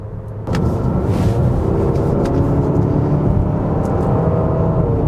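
Infiniti QX60 Luxe turbocharged four-cylinder in sport mode pulling hard to merge onto a highway, a steady loud engine drone with road and wind roar building after a brief quieter start.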